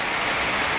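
A sudden heavy, unseasonal May rainstorm pours down in a thick, unbroken roar of falling water, close and loud, with no talking.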